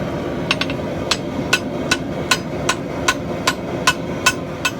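Hammer blows forging a tomahawk axe from a farrier rasp at welding heat ring out in a steady series of about a dozen sharp metallic strikes, with a few quick rebounds early on, over a constant roaring forge.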